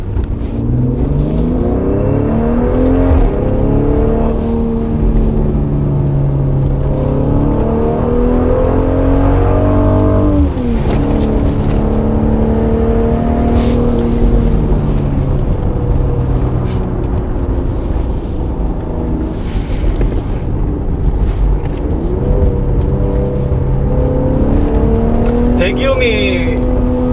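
A Mercedes-AMG GLC43 with its V6 engine drives along, its exhaust note rising and falling through repeated rev sweeps in a steady, moderately loud cabin rumble.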